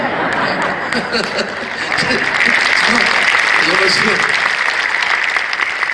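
An audience at a church worship service breaks into steady applause with a few chuckles, while someone speaks briefly over the clapping.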